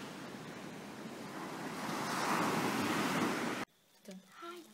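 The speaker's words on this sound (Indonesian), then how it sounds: "Ombaknya sama sih kayak di Pulau Merah." Ocean surf breaks on a beach, a broad steady roar that swells and then cuts off abruptly near the end, followed by faint voices.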